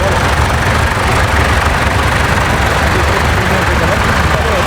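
Vintage tractor engines rumbling steadily in a show parade at Poynton Show, a loud continuous low idling drone with nearby crowd chatter and talk mixed in throughout.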